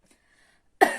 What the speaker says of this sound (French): j'ai toussé en faisant le geste d'éternuer